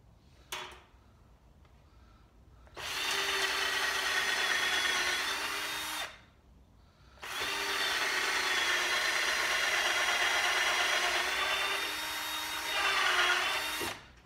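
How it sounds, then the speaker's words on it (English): A power drill whirs up and bores into wood in two long runs, a steady high whine with a grinding edge, close by, separated by a brief pause. "wouldn't normally drill left-handed, but sometimes you just have to do it."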